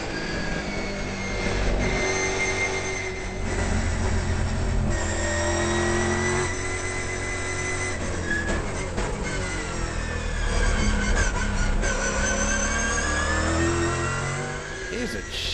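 Loud roaring V8 touring cars at Winton raceway rev up and down continuously, with gear changes and passing cars, while commentators talk over the noise.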